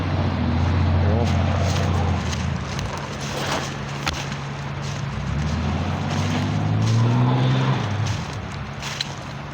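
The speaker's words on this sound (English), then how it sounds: "except for the occasional roar of a truck" A truck roars past near the Fraser River, a deep low rumble that swells, eases and builds again over several seconds amid outdoor noise.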